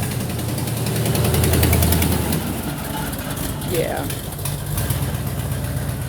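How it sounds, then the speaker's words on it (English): Loud rough engine of an old car passing nearby on a street, a low rumble that swells then fades over a few seconds, with someone speaking briefly over it and birds cooing in the background. "there's a car with a loud noise coming through"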